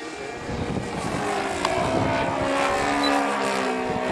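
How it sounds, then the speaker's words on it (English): A radio-controlled model airplane with a diesel engine flying overhead, a continuous loud buzzing drone that swells slightly as it passes, heard outdoors with no talk. "Diesel engine."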